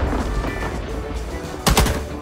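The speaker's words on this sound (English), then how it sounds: "He's shooting at me." Video game gunfire in a helicopter combat match, a dense burst of rapid shots rattling loudly near the end over a busy background of game noise.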